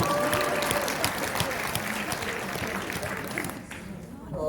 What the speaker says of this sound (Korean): 박수 해주시면